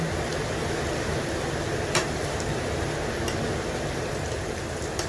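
Steady rain falls during a wet day at home while food is prepared, a dense continuous hiss with occasional faint ticks and drips standing out, close and even throughout with no talking.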